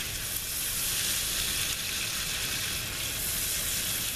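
Italian sausage sizzling in a pan on a Sterno stove converted to burn wood, a steady close crackling hiss of frying fat that runs unbroken with no talking.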